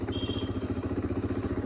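A CrossX300 motorcycle engine runs with a steady, rapidly pulsing mid-pitched chug, close by and even throughout, with a brief faint whine near the start.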